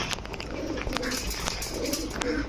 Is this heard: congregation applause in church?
no